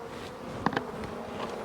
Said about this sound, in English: We'll sweep these bees in off the edge